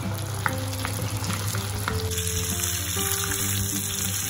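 Chicken drumsticks fry in hot oil, giving a steady, close sizzle and crackle with a few sharper pops. It continues without pause and no one speaks.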